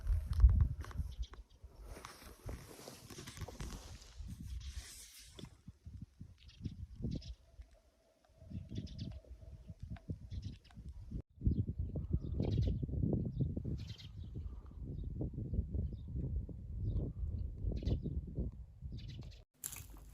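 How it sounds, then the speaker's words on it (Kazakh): Faint birdsong and scattered chirps carry through a calm early morning in Zerendi, Akmola region, with soft rustling and low rumbling beneath and brief quiet gaps. "Құстардың дыбысы"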